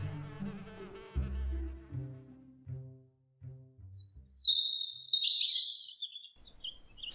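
Solitary bees, mining bees of the genus Andrena, buzz near ground nests, heard as a brief high insect hum rising in the second half after a soft tonal passage, moderately loud and with no talk.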